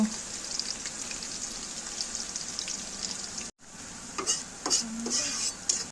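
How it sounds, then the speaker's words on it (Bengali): Whole spices, bay leaf, dried chili, cumin and chopped onion crackle in hot oil as a continuous loud hiss. The sizzle cuts out briefly midway, then returns with a few metallic clinks and scrapes of stirring. "গরম মশলা ফোড়ন দেওয়া হলো, তেজপাতা, শুকনা মরিচ, জিরা, পেঁয়াজ কুচি দিয়ে দিল"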